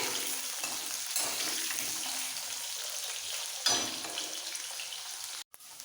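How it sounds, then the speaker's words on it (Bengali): Potato pieces sizzle and crackle steadily in hot oil as they are stirred in a pan, a close, continuous frying hiss with occasional scraping stirs, cut off abruptly near the end. "তেলের মধ্যে আলুটাকে একটু নাড়াচাড়া দিয়ে ভেজে নিতে হবে"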